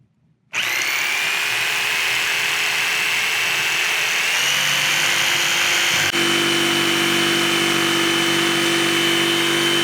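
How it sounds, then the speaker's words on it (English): A jigsaw cuts a 10-inch strip for a DIY wind fairing. The whine comes in close and loud after a short quiet start and runs steadily to the end, with a slight change in pitch partway through. "I did make a little cut right here with the jigsaw, and it looked like it was going to start cutting just fine"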